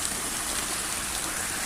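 The Porter Brook in flood rushes as a dense, steady roar of water, constant and broad with no pauses and no voices.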